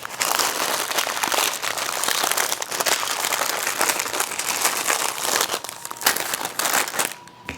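Parchment paper is crinkled and folded around breakfast sandwiches for the freezer in a continuous loud rustling close by, with dense crackles and crunchy sharp bursts throughout. No one talks.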